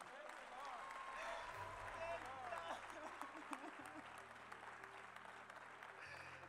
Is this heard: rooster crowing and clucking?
no